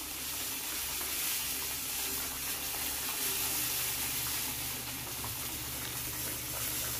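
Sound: Fish steak sauce with soy sauce simmering in a pan

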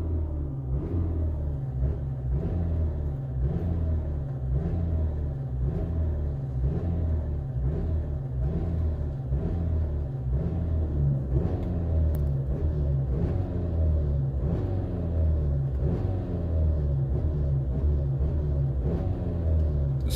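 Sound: Hyundai i30 engine revving at full throttle

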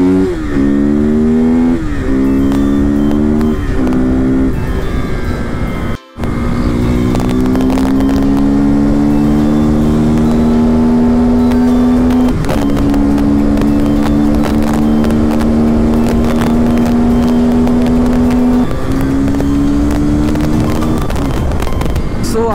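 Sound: motorcycles setting off on a ride

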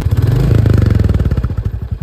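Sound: Royal Enfield Bullet 350 motorcycle engine accelerating

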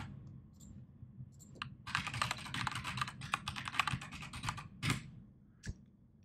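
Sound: typing a URL on a computer keyboard

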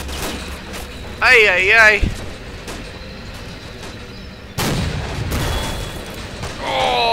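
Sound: gunfire and explosions in Army Men mod video game

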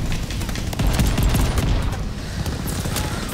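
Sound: shotgun firing in a video game

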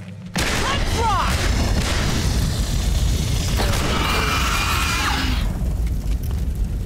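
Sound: gunfire from video game Aliens: Dark Descent

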